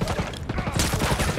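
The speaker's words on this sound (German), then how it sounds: "Gerade noch mit dem letzten Schuss noch einen Headshot verpasst" Rapid gunfire in the tactical shooter game Ghost Recon Breakpoint, a quick burst of several close, punchy shots in fast rhythm lasting about a second.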